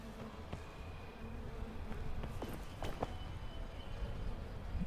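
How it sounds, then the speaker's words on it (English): Bees drone faintly through a video game's quiet outdoor ambience, a low steady buzz with a few soft thuds and no talking. "And there's bees somewhere."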